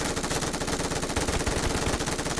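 Dense rapid gunfire from PUBG Mobile, continuous automatic bursts rattling loudly and evenly throughout, with no voices.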